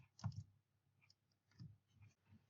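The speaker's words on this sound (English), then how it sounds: "And now if I want to move backward, I have to press Ctrl, Shift, and Tab." Windows 10 keyboard shortcuts typed on a computer keyboard: a few soft, close key clicks in small clusters, quiet and with no talking.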